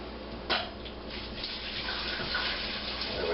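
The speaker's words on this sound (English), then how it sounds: "Now I'm pouring hot water in here." Hot water is poured into a pot holding a pork roast for tamales on a stove burner, making a continuous splashing gush close by with a sharp splash near the start.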